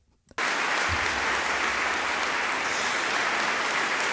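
Sudden burst of applause from a large audience, starting abruptly after a brief quiet moment and then holding as a dense, loud, steady clapping roar.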